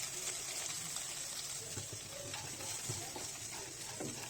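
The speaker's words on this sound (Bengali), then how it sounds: "এখন ঘিয়ের সঙ্গে ভালো করে বাদামটাকে ভেজে নিচ্ছি।" Cashews, peanuts and raisins frying in ghee for carrot halwa give a steady close sizzle with scattered stirring clicks running through the whole stretch, with no voices.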